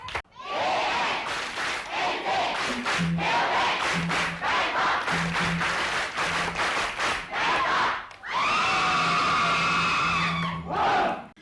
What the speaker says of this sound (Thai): เสียงเชียร์นี่เลิศจริงๆค่ะ